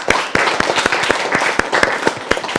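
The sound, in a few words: audience applauding a student's fable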